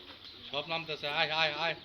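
Pigeons landing in a village coo in a series of soft, throaty warbles, several calls close together, near and moderately quiet.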